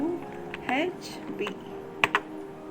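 A few sharp keystrokes click on a computer keyboard while entering captcha text, brief taps near the end heard beneath a person talking.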